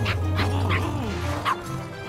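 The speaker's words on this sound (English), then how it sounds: "How's our favorite little puppy?" A small puppy yips and whimpers in several short, high cries close by, with a louder yelp near the end over a steady low background hum.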